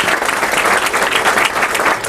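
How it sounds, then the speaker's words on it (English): A crowd at a grand opening event in Westmont claps for the town's mayor, a lively, fairly close burst of applause that stays full and even for its short span. "Let's give him a round of applause, please."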